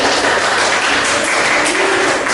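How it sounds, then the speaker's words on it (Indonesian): Classroom applause for a student after her presentation, a short burst of dense clapping from a group of pupils, loud and close, filling the brief moment without speech. "Tepuk tangan buat Alfi"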